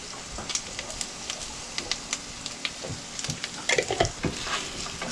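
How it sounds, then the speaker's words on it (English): Food sizzles and crackles in a frying pan while being stirred and mixed around, with scattered scrapes and clicks of a utensil over a steady close-up hiss, louder clatter near the end. "And a bit of a stir, mix them around."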